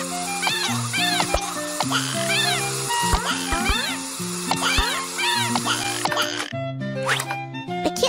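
A flea-ridden stray kitten meows repeatedly in high, plaintive cries over steady background music, the meows close and fairly loud.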